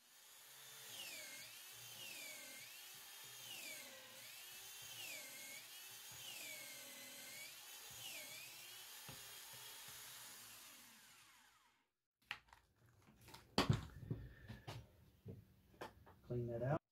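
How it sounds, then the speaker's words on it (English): A power drill fitted with a bit guide bores a hole through pallet wood, its motor whining in rising and falling cycles for about eleven seconds before stopping, followed by clattering handling noises. "Drill your hole."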